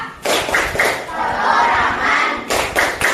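Classroom ice-breaker game in which students chant and clap in rhythm, loud crowd voices shouting together with clustered hand claps, a sustained group chant in the middle and sharp repeated claps returning near the end.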